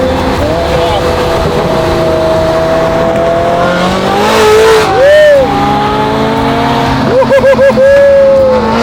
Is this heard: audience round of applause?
no